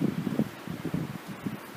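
Strong wind gusts buffet the microphone beside a railway line in Rosenbach, a low, uneven rumble with rustling trees, close and continuous.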